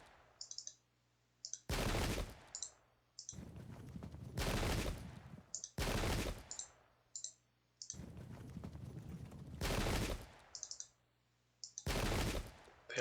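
Musket volleys crackle in the video game Pike and Shot, with dense ragged bursts of gunfire repeating roughly every two seconds between short gaps, accompanied by light interface clicks.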